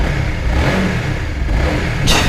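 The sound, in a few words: Honda CBR150R motorcycle engine starting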